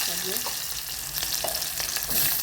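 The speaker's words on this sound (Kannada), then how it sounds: "ಇದಕ್ಕೆ ಜೀರಿಗೆ ಸಾಸಿವೆ ಹಾಕೀನಿ" Cumin and mustard seeds fry in hot oil as the base for upma, a steady close hiss of sizzling with light crackles and occasional stirring sounds.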